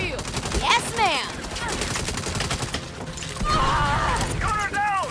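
Gunfire in the Saints Row video game, bursts of rapid automatic shots crackling loudly across the scene, mixed with shouted voices and game effects.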